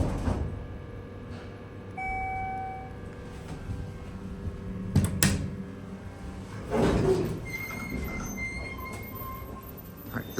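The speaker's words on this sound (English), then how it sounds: "Let's close the door back up before I get copyrighted." Door of a 1999 Schindler MT traction elevator sliding shut in a Houston building, a steady mechanical rumble with tonal hums and a distinct bump and rattle midway, followed by a louder surge as the panels close.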